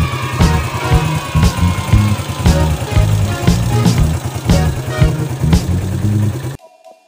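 A motorcycle engine running without a battery, a steady loud close-up idle with a rhythmic pulsing throb and regular knocking beats, cutting off abruptly near the end.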